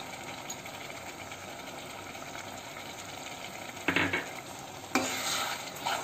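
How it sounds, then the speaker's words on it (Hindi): Palak paneer gravy simmers in a pan with a soft, steady sizzle, broken near the end by two short bursts of stirring and scraping. "अब इस ग्रेवी को हमें तब तक पकाना है जब तक इससे ऑयल सेपरेट नहीं हो जाता।"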